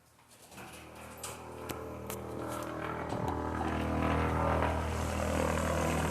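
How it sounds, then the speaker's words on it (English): Propeller aircraft engines start up at an airport and build into a steady, growing drone, with a few faint chirps early on before the roar swells. "So we can hear the planes firing up out here."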